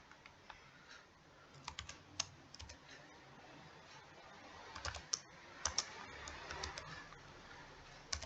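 Typing on a computer keyboard, soft clustered key clicks in irregular bursts, close and quiet with no talking.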